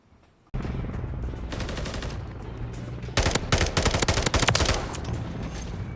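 FSS Hurricane submachine gun fire in Modern Warfare 3: a long run of rapid automatic shots, close and loud, growing sharper in the later bursts, with no talking.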